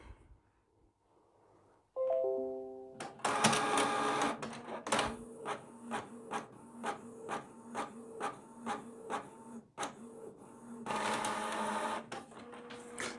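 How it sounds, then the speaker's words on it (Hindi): A printer runs off a DPD shipping label for an Amazon or eBay order: startup beeps rise in steps, then a loud, steady series of rhythmic mechanical printing pulses follows, ending in a louder feed burst, with no talking. "तो अभी इसको हम प्रिंट करते हैं"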